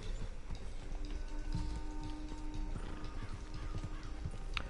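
A horse in the video game Red Dead Redemption 2 whinnies softly over a continuous bed of hoof clip-clops and low background rumble, everything fairly quiet.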